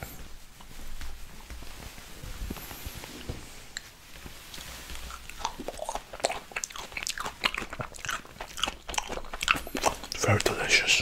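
Close, wet biting and chewing of honey-soaked lemon slices, with crunchy bites and slurpy mouth sounds that grow louder and denser toward the end, recorded intimately for ASMR.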